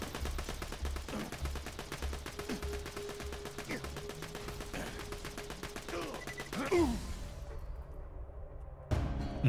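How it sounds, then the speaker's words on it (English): Rapid, continuous Infinity pistol gunfire in Borderlands 2: a dense, steady stream of close shots for about seven seconds, with small whooshes and impacts mixed in, then a pause and a brief final burst. "What is this pistol? This is the Infinity."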